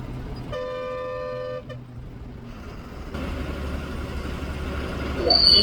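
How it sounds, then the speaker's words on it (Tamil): A long, steady bus horn blares for about a second, followed by engine rumble and road noise, with a sharper tone near the end. "அதனால தான் ஹார்ன் அடித்து ஹார்ன் அடித்து போயிட்டுருக்கோம்"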